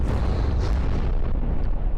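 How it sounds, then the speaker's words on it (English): Cram cannon shells striking an enemy ship in From the Depths, a sustained heavy rumble of overlapping booming impacts that stays loud and dense throughout, with faint higher whistles above the low roar. "the cram cannons did hit"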